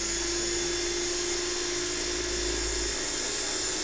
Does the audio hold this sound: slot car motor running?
yes